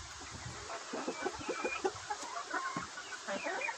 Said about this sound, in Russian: Вот такой петушок.